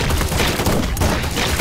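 Rapid gunfire from the video game Run! ZombieFoods crackles in dense, overlapping bursts, loud and continuous for the whole moment.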